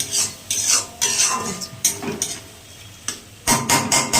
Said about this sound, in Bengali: দেখো একটু জল দিলাম, আর মশলাটা সুন্দর করে কষানোটা হবে